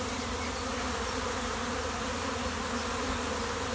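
Honeybees in heavy spring foraging flight crowd the hive entrance, making a dense, continuous buzzing hum that stays steady throughout with no voices.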